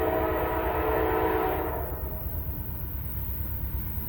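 A train rolling around a super-elevated curve near a house, its horn sounding loud and sustained for about two seconds before cutting off, leaving a low rumble of wheels and cars that carries on steadily.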